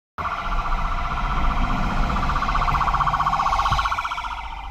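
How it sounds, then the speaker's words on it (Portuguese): An ambulance siren sounds loud and steady at an accident scene during a horse-riding parade in Porto Alegre, its repeating wail running continuously throughout with traffic rumble underneath. "Ambulância chegando."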